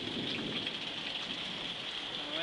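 Rain falls outdoors in a steady, dense patter of drops with a soft hiss, continuous and moderately faint throughout, with no voices.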